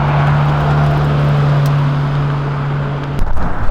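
McLaren Senna supercar producing a steady, droning engine hum that holds for about three seconds, then cuts to a brief rougher burst near the end, with no talk.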